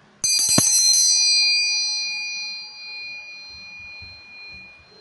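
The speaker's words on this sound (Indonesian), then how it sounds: "saya akan memulai dengan menyeduhkan air dengan ditandai lonceng berbunyi." A single bright metallic bell strike rings out close and clear, its sustained ringing tones slowly fading over several seconds in an otherwise quiet space.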